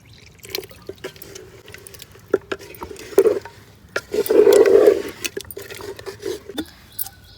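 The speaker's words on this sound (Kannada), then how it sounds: "ಹಾಗಾಗಿ ನಾವು ನೀರು ಹಾಕ್ಕೊಳ್ಬೇಕು." Water splashes and trickles into a clay pot in short bursts, with a longer pour near the middle, surrounded by small clinks and drips.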